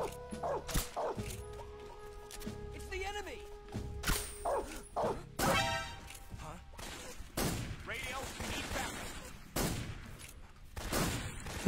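Guard dog in the video game Metal Gear Solid 3, sharp repeated barks mixed with bursts of gunfire and impact sounds while a player talks throughout.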